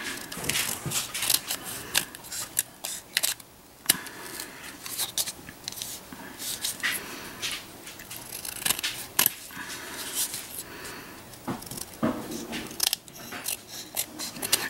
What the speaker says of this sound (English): I just take my scissors and trim it off